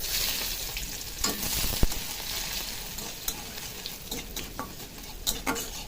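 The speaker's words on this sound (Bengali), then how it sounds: "তেলটা কিন্তু গরম হয়ে গেছে আমি দুটো শুকনো লঙ্কা দিয়ে দেবো দিয়ে দেবো একটু কালো জিরে দিয়ে দেবো একটু রসুন কুচি" Dry red chillies, nigella seeds and chopped garlic frying in hot oil in a pan, a steady close sizzle with scattered stirring scrapes and pops, no talk.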